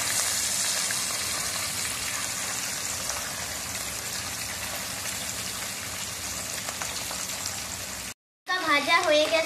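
Hilsa fish fry in hot oil with a steady, rain-like hiss and crackle close by for several seconds, then a brief dropout before a voice speaks.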